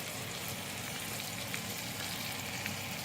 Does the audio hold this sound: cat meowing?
no